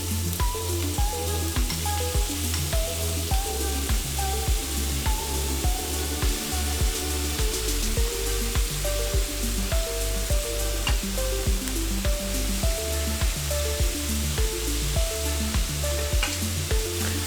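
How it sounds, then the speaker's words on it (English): Ground chuck, 80% lean and 20% fat, sizzling steadily in a pan, a close continuous frying hiss with a regular pulsing beat running underneath throughout. "then we're going to start cooking our ground beef or chuck"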